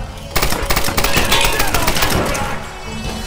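Machine gun fire in the video game Tomb Raider, a fast, loud, close rattle of repeated shots running nearly the whole time, with voices talking over it.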